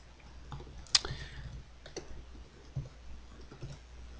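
Several scattered clicks and light taps on a computer keyboard and mouse while personal details are typed into an email signature form, close and fairly quiet, spaced irregularly with no speech.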